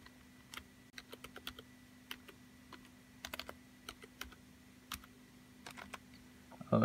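Rapid typing on a computer keyboard while an Apple username and password are entered, with sparse clicky keystrokes in quick irregular bursts over a faint steady hum, nearby and fairly quiet.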